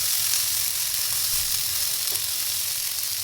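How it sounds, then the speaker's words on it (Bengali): Rice grains fry with cinnamon, cardamom and cloves in a pot for shahi jarda pulao, giving a steady, even sizzle close at hand with no voices. "এখন সেই চালগুলো দিয়ে ভেজে নিব। চালটা জর্জরে হওয়া পর্যন্ত ভেজে নেব।"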